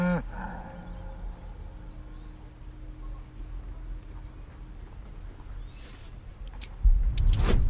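An ox in Baldur's Gate 3 gives a short, low moo at the start over steady game ambience, followed by a quiet stretch and a louder burst of noise near the end.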